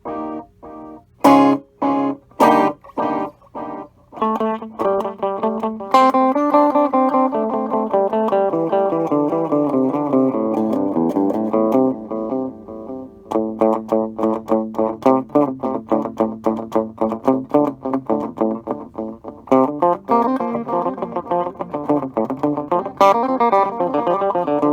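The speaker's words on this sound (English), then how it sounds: "Turn the delay up a little bit." An electric guitar played through the delay effect of a Rockville G-Amp 20 W practice amp, with picked notes and chords repeating in echoing trails, loud and close, with no talking.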